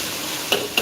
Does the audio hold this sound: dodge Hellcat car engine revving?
no